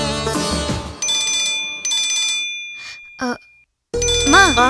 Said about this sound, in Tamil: அம்மா, ராதிகா ஃபோன் பண்றா.